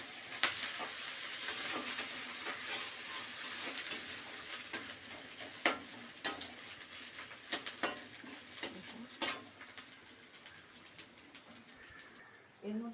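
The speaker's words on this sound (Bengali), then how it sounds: "এই রসুন বাটাটা দিয়ে দিলাম, এই পেঁয়াজের সঙ্গে একটু ভেজে নেবো" Garlic paste fries with onions in a pan for a Bengali egg curry, a steady soft sizzle with scattered sharp clicks and stirring scrapes, close and fairly quiet, with faint birds in the background.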